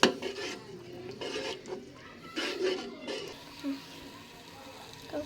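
Rice being stirred in a cooking pot for payesh, sweet rice pudding, giving soft scraping and rubbing strokes against the metal that come in irregular bursts, with a voice talking over them.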